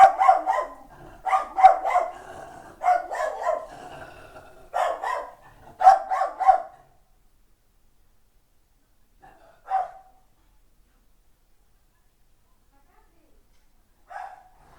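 A dog barking indoors, a burst of several sharp barks in quick succession, followed after a pause by two more isolated barks, somewhat distant.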